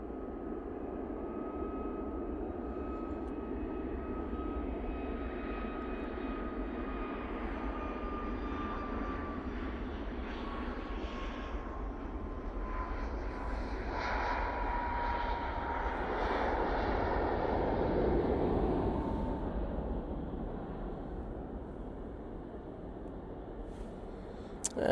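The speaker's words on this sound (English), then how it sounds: "now on the roll. This one's off to Malaga, using the 737 MAX 8 for this flight." A Boeing 737 MAX 8 jet rolls down the runway for takeoff at Manchester Airport, its steady engine roar heard from a distance, swelling gradually toward the middle and easing near the end, with no talk over it.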